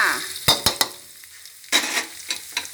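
Garlic, one whole head, hits a spoonful of oil in a hot wok for a Thai red curry stir-fry with squid and sweet peppers, giving a close sizzle broken by a few sharp stirring scrapes of the spatula.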